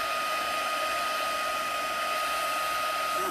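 A heat tool blowing hot air to melt embossing powder on a craft stamping project, a steady close-up hairdryer-like whoosh with a constant high whine and no speech.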